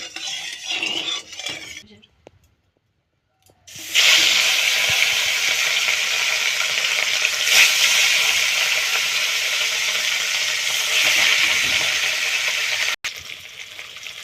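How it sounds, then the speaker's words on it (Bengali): Rui fish slices drop into hot mustard oil and set off a loud, sustained crackling sizzle after a short silent pause. Earlier there is softer sizzling and utensil noise, and a sharp click near the end. "এবার মাছগুলো ভালো করে ভেজে নেব।"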